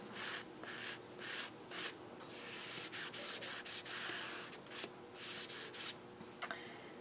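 Chalk scraping across an acrylic mixed media painting of a face, quiet close strokes in short rhythmic bursts, some quick and clustered, some longer, with brief pauses between.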